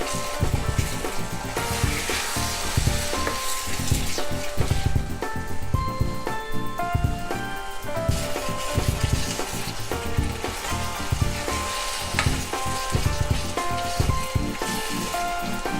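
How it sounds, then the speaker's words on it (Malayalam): Coconut paste sizzles and crackles steadily while being sautéed in a pan for a Malabar egg curry, a close, continuous frying hiss with occasional stirring scrapes. "ഇതിൻ്റെ പച്ചമണം പോകുന്നത് വരെ നന്നായി വഴറ്റിയെടുക്കുക."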